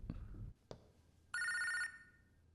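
A telephone rings once in a short, bright electronic burst in a Hindi-dubbed suspense thriller, coming after a few dull knocks and a quiet pause, with no talking.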